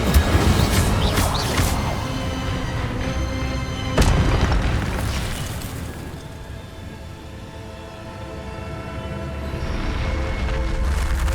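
An Incendio fire spell cast in Hogwarts Legacy bursts out as a loud, sustained fiery whoosh with a sharp boom at the start and another burst midway, then a rumbling roar that swells again at the end.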